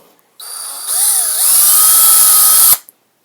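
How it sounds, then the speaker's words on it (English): A power drill bores through soft plastic while a GoPro mast mount is being made. It runs in one loud, steady, whining burst of about two seconds, rises in pitch as it speeds up, then stops abruptly. "This plastic's really not very hard to drill"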